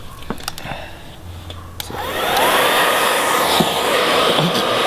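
A heat gun switches on to warm adhesive on car trim of a Honda, its steady blowing whir rising after a couple of soft clicks and then holding a loud, even tone close by.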